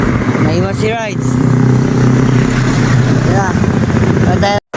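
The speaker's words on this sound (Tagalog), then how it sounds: "Manonood tayo ng karerang na rider sa tricycle." Racing tricycles, including a Raider motorcycle with sidecar, drone with steady loud engine noise and brief rising revs close by, while someone talks throughout.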